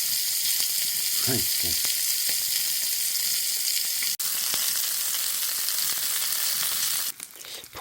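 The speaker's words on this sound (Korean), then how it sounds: "뭐 그래서 대파를 조금 썰어 놓고 구웠습니다" Chopped green onions sizzle and fry steadily in a hot pan outdoors, a continuous close crackle with a brief exclamation from a voice partway through.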